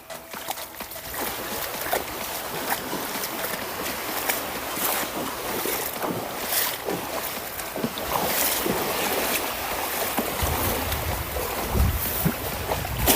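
Ocean surf at Gusipo beach during cast-net fishing, a steady rushing wash of waves breaking on the shore mixed with gusty wind buffeting the microphone, continuous and fairly loud.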